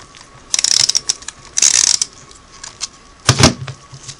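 Small socket ratchet loosening a nut under the footrest of a Singer 99K sewing machine foot controller, three clicking bursts of pawl ratcheting, close and crisp, with brief pauses between strokes and no talking.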